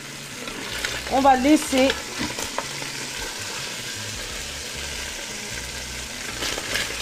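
Lamb stew sautés in a pot with a dense, continuous sizzle while being stirred, and a voice speaks briefly near the start.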